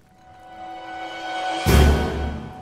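In the video game Smalland: Survive, a sudden loud thunderclap bursts over a low, steady storm ambience and then rumbles away, with no talk.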